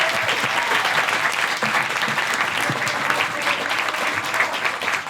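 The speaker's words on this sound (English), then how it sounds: "If I can have a round of applause for all the panel" An audience at an LGBT relationship education panel gives dense, steady applause for the panellists, a continuous full-room clapping that stays level throughout.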